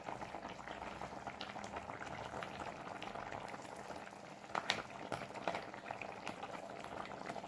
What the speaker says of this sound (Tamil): இப்போ நல்லா கொதி வந்துருச்சு